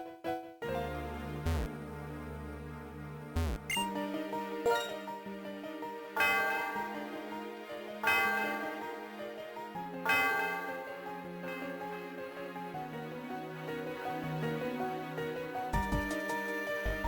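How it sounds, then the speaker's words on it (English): The Celestial Tower bell in Pokemon Black rings in bright, resonant strikes roughly every two seconds, each ring lingering over soft game music. "Celestial Tower's bell is for soothing the spirits of Pokemon"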